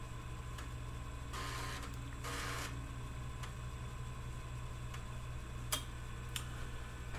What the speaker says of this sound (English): We just had a large step of the heads to get out and load MBASIC.